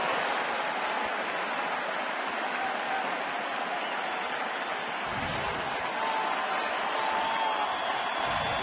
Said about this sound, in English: And the crowd back into it with a 3-2 count on Renteria